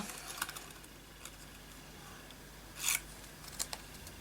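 Scissors snipping through magazine paper to cut out a stamp-sized image, a few sparse close clicks with one louder crisp cut midway, otherwise quiet room tone with no talking.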